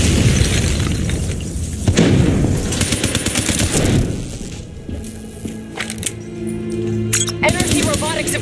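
Explosions and gunfire in the video game Call of Duty Black Ops 3, with rapid weapon bursts, heavy booms and crunching debris, loud and continuous, mixed with in-game voices.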